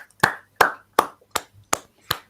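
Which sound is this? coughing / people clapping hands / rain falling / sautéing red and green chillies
people clapping hands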